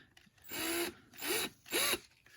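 A power drill works at a rusted axle on a 2 x 2 plate in three short bursts, each spinning up and winding down, close by with short pauses between.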